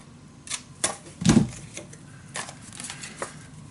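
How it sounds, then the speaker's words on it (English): A corner punch snips through paper during a folio craft project, giving a few short, crisp clicks and one louder thunk near the middle, close by, with no talking. "Use your same corner punch."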